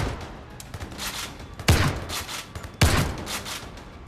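Shotgun fire in the video game Zero Caliber: two loud, sharp blasts about a second apart, each with a brief rumbling tail, over low background game noise.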